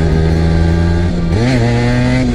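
A Honda NS-1 two-stroke motorcycle engine drones loudly and up close, its pitch dropping then climbing again as it shifts down a gear, with no talk.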